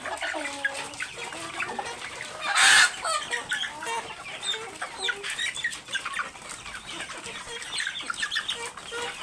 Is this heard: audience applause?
no